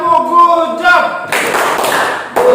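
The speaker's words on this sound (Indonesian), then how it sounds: "Berikan tepuk good job" A classroom of students breaks into a short burst of group clapping for a 'good job' applause during a maths lesson on exponents, loud and close. A teacher's voice comes just before it.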